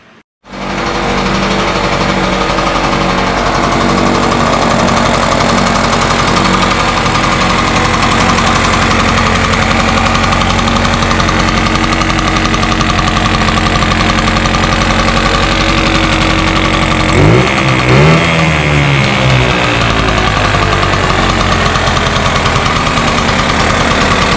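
Restored 1978 Puch Magnum X barn-find moped engine running steadily and idling, a loud continuous buzzy putter with a rapid knocking rhythm, held close throughout with a brief rev change near the end.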